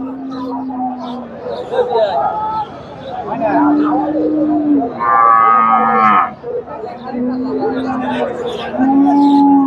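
Pregnant Deshi Sahiwal cows at the Chandaikona cattle market in Sirajganj moo repeatedly, several long, loud calls close by, with people talking and market bustle throughout.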